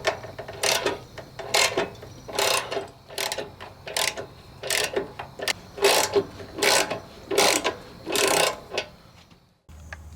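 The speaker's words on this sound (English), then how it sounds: "I've got to put a puller on it and crank it down and get it to pull it off" A gear puller is cranked down with a ratchet to pull a PTO pulley off its bearing on a Cub Cadet mower, giving repeated bursts of ratcheting clicks in a steady rhythm, close up.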